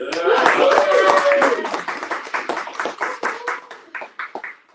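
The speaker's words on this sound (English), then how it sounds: "let's give a warm round of applause for Micah" A small audience at a speaker-series event claps for the event planner Micah: scattered, separate handclaps that thin out toward the end, with voices calling out at the start.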